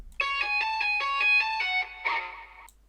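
A bright lead guitar plays a quick run of about eight repeated, evenly spaced notes, then lands on a held, gritty note that fades out.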